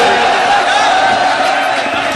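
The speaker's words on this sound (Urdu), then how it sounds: "زوردار تالیوں سے." An audience at a mushaira, an Urdu poetry gathering, bursts into loud, sustained applause, a dense wash of clapping and crowd noise that carries evenly from start to finish.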